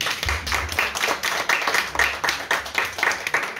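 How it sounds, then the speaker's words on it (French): An audience claps for a novelist at a literary conference on family, heritage and dysfunction, a dense steady patter of many hands filling the space without pause, with no voices over it. "On peut l'applaudir."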